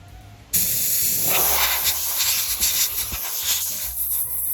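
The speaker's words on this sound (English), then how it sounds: "get some compressed air in here" Compressed air blasting dust out of an HP 8656A signal generator during repair, a sudden loud continuous hiss that starts abruptly and holds steady for several seconds, close up.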